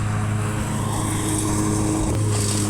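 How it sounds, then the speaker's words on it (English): A lawn mower runs nearby outdoors, a steady droning engine hum with a low harmonic buzz that holds throughout, loud and continuous with no talk over it. "He's down there mowing."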